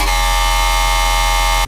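A loud, sustained dubstep synth bass run through a comb filter gives a dense, buzzing, horn-like drone that holds steady for under two seconds before cutting off abruptly.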